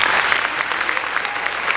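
A church congregation breaks into applause, many hands clapping in a dense, lively burst that holds steady and close throughout.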